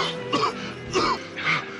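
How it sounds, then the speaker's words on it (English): A woman in a scene from the film Curse of the Pink Panther lets out three harsh, throaty coughs in quick succession, close and clear with no talking over them. "That's a nasty cough you got there, lady."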